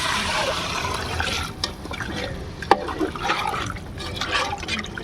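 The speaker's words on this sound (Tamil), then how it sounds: "இப்போ தண்ணி ஊற்றிக்கலாம்" Water pours steadily into a pot for egg biryani, a continuous splashing fill with faint drips, fairly close.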